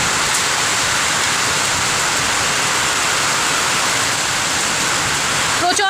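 Heavy rain pours down in a loud, unbroken hiss drumming on a rooftop during a storm, constant and close throughout.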